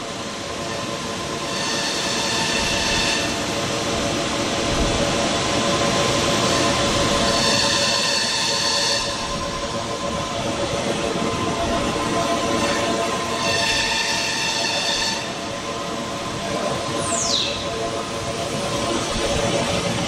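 A Holz-Her Dynestic CNC router machines a panel with a LockDowel tool, giving a steady loud mechanical drone with recurring high whining passes as the spindle cuts.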